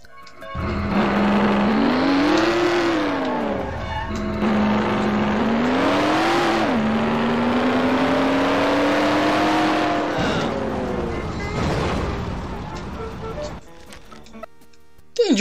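A car engine in the video game Mafia drones and revs steadily while driving, pitch rising and falling through gear changes over about fifteen seconds, loud and continuous before cutting out.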